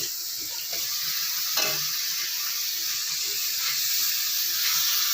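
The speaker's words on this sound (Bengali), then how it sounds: "বেশ কিছুক্ষণ আমি এটাকে কষাতে চাই" Ridge gourd fries with ground spices for a snail curry, a steady close sizzle and hiss with a brief scrape of stirring early on, unbroken and without voices.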